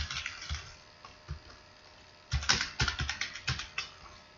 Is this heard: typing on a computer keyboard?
yes